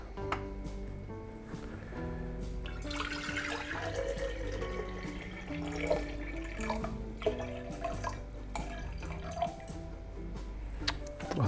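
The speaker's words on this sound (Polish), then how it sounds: "tej wody tutaj nalejemy pół litra" Half a litre of distilled water is poured into a jar, a steady trickling splash heard close, with small clinks and a low background hum.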